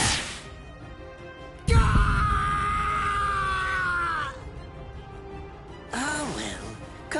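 A man's prolonged anguished scream of pain rings out loud and close in the Bleach Rebirth of Souls fighting game, with a shorter, wavering cry following a moment later over ambient game sound.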